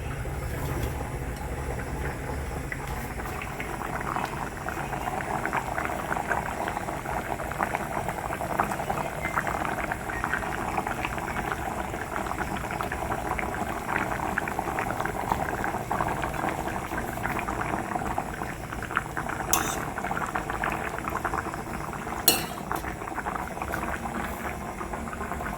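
Dal lentils boiling in a pot on a home kitchen stove, a steady bubbling simmer that runs evenly throughout at close range with no talk over it.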